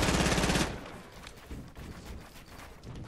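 Rapid gunfire in a multiplayer shooter video game, a dense loud burst for the first half second, then fainter scattered shots continuing underneath.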